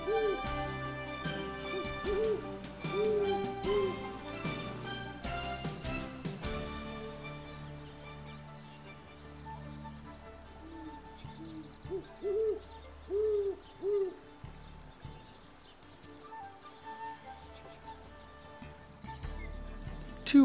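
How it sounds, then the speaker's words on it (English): Deep, soft hoots from a great horned owl occupying a red-tailed hawk's nest come in short groups, several at a time, far off in a quiet outdoor setting, with pauses between. "This great horned owl occupies a red-tailed hawk's nest."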